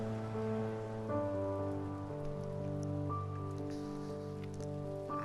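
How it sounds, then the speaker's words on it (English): Rain falling in the video game Heavy Rain, a soft constant patter running beneath sustained, slowly shifting musical chords. "it'll just rain through the whole game"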